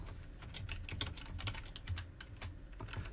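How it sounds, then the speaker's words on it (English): Fingers type on a computer keyboard in quick, uneven bursts of close, crisp clicks, with short pauses between keystrokes and no talking. "I'm going to type"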